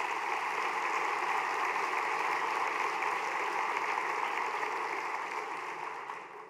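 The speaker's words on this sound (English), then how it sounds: "So please give them a round of applause" A conference audience applauds in a large hall, a dense, steady wash of clapping that holds evenly and then starts to fade near the end, with no one speaking over it.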